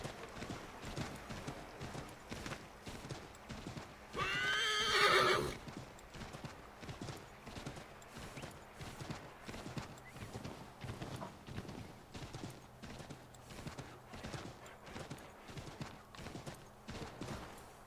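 In Assassin's Creed III, steady rhythmic horse hoofbeats clip-clop throughout, with a loud horse whinny bursting out briefly near the start over a low ambient backdrop.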